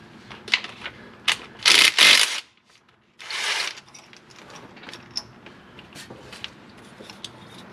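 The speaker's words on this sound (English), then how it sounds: "we're going to unbolt this whole harness and lay it over to the side" A ratchet unbolts a car wiring harness during a clutch installation, giving quick clicking ratchet strokes in short bursts, with a couple of louder rasping runs and scattered mechanical clatter.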